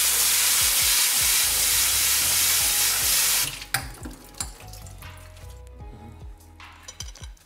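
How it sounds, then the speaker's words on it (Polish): Cold tap water runs loudly and steadily over raw onion in a sieve for about three and a half seconds, then cuts off, leaving light clinks and handling knocks in a quiet kitchen. "przemyjemy surową cebulę na sicie z zimną wodą"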